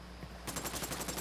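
Rapid submachine gun fire in a tactical shooter game, a quick burst of evenly spaced shots that breaks in suddenly after a moment of quiet.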